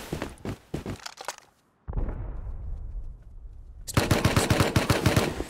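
Automatic gunfire from a base-mounted gun in a survival video game, rapid loud bursts that stop abruptly into a short gap, followed by a reverberant rumble and then another sustained volley of fast shots.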